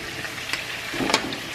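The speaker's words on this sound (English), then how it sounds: "So we start frying our onion." Chopped onion sizzles in hot oil in a pot as the base for Uzbek lamb and rice plov, a soft steady frying hiss with a couple of brief stirring scrapes, close and quiet.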